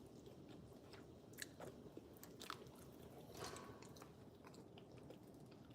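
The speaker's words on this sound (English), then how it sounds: "I just wanna bite into it to make sure that it's al dente." Cooked pasta being bitten and chewed to test whether it is al dente, giving a few soft, close crunchy bites and mouth sounds over a steady low background hum.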